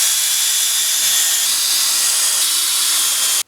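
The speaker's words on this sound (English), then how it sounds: "Now I'm clamping everything together and I'm putting quite a lot of force into this to bury these deep screws." Loud, continuous power-driver whine sustained for several seconds as long screws are driven deep into clamped exit suit parts, ending abruptly.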